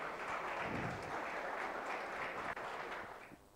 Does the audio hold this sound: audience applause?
yes